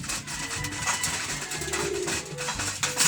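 Pigeons cooing and fluttering nearby while feeding at a loft, with soft rustling and scattered bird calls over a busy background.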